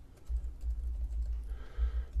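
Numbers keyed into a calculator while solving a triangle problem, a quick run of soft, close, faint tapping clicks with no talking.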